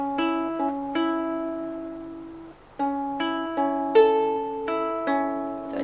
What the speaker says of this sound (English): Just for the sake of our finger picking pattern that goes like.